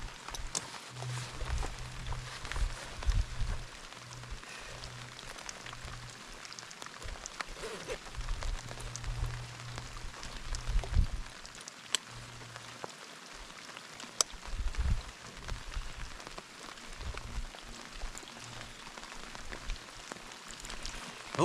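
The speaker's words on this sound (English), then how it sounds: "I think that it's going to be a day of paddling in the rain." Rain keeps falling for the length of the clip during a solo canoe trip on the Tim River in Algonquin Park, a faint, continuous patter of drops with soft scattered taps and low rumbling throughout.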